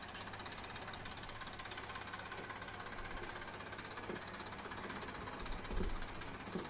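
A tractor engine idles and chugs steadily at a low, fairly quiet level while the machine maneuvers into a tight spot during brick unloading, with a few faint knocks and clunks and no talking.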